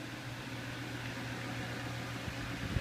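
A Holmes Blizzard II electric fan, a little bumpy when oscillating and probably needing oil, runs steadily with a constant low motor drone and an airy hiss, plus a couple of faint knocks near the end.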